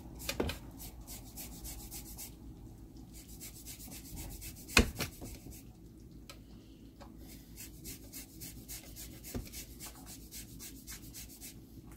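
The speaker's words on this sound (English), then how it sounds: "I'm going to grate the zest." Citrus zest grated for a Guyanese-style black cake, soft quiet rasping strokes in uneven repeated bursts, close and faint, with one sharper knock midway.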